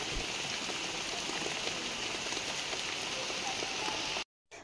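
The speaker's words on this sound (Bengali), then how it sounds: "বাইরে অনেক বৃষ্টি হচ্ছে।" Heavy rain falls outside in a steady, even hiss with soft patter of drops on surfaces, moderately quiet and continuous, cutting off abruptly near the end.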